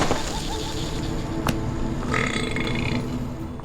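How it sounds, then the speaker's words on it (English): A killer clown lets out a single deep, drawn-out burp after consuming a man, loud and close, set against a low murmur of background sound. "From the burp there, it seems like we are led to believe that the clown just consumed that guy"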